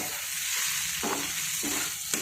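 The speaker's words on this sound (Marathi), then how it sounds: "आता हे सर्व आपण मिक्स करून घेऊयात।" Papad chutney with onion, tomato, mutton masala and spices sizzles in a hot pan while a spoon scrapes through it in a few rhythmic strokes, close and steady with no voices.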